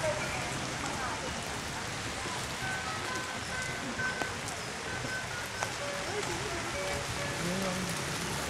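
Heavy rain pours steadily on surfaces outdoors while people wait in line for food, a dense continuous hiss with occasional faint tones and small knocks mixed in.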